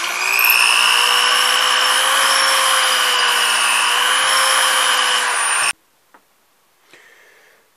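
Power drill boring into antler with a 13/32 drill bit, a loud, close, high whine held steadily for over five seconds, then cutting off abruptly into near silence with a faint rustle.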